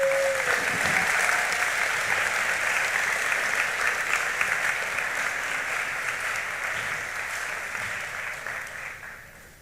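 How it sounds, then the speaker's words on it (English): Sustained applause from an indoor audience at a high school senior awards ceremony, strong at first and gradually fading toward the end. "let's give them a round of applause."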